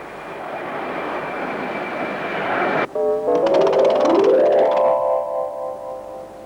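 An airplane engine drones with a whining tone that cuts off abruptly, then a rising multi-toned roar builds and sweeps upward, loud and close, with no speech.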